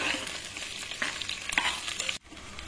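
Shallots and chillies sautéing in a pan for a country-chicken chilli fry, with a busy, close sizzle and stirring scrapes that stop abruptly near the end.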